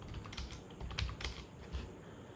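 Typing on a computer keyboard, with a run of quick, uneven keystrokes and a few louder clacks, fairly close and quiet, no voices.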